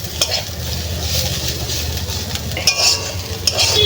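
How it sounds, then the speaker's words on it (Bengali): Potatoes and bottle gourd peel fry in a wok for a Bengali home meal, giving a loud continuous sizzle with scraping stirs and a few light clinks of a utensil near the end. "আলু আর লাউ চোড়া ভাজা করছি"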